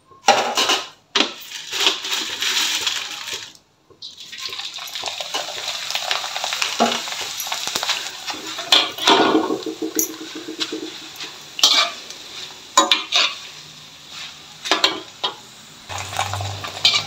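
Sabudana papad fry in hot oil with a bubbling sizzle broken up by frequent scraping, stirring and metal clinks of a utensil against the pan, irregular and close.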